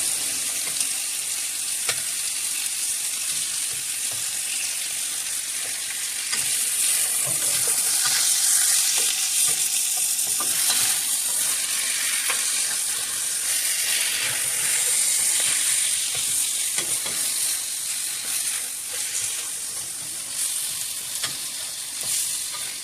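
Chicken legs browning in hot oil in a pan, a loud, close, continuous sizzle and crackle, swelling as pieces are turned and stirred, with no voices.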